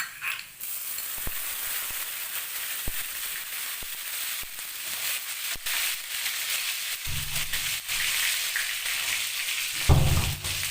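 Chopped green and red chillies sizzling in hot oil in a pan while cooking chilli fish, a steady crackling fry with occasional pops and stirring scrapes, close and continuous.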